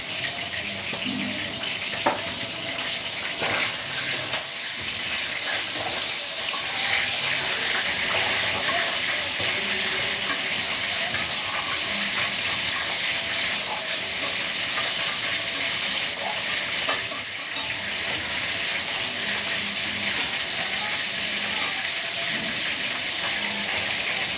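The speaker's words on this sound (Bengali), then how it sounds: "আলু আর এঁচড় এটা ভেজে নিচ্ছি।" Potato and jackfruit frying in a pan, a steady broadband sizzle that runs continuously without pause and with no talking.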